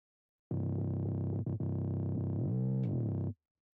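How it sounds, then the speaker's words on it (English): A bass note driven through FabFilter Saturn distortion for a gritty guitar-amp-like tone sounds loud and sustained for under three seconds, ending in a pitch bend that swoops down and back up before cutting off. "Then I put a FabFilter Saturn on it because it felt like there's like a guitar amp running through the"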